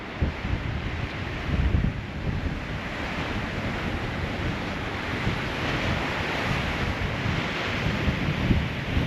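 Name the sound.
ocean waves on the rocks beside Bondi Beach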